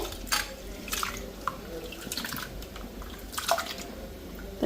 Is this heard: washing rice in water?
yes